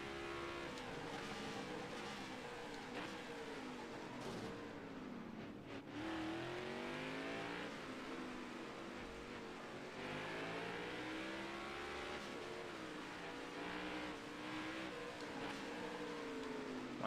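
Race car engine from NASCAR Heat 5 drones steadily at close range, with sustained revving and shifting pitch throughout, no voices present.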